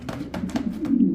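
A black boulder pigeon coos close by in a short run of about four soft, low, throaty pulses, with no talk over it.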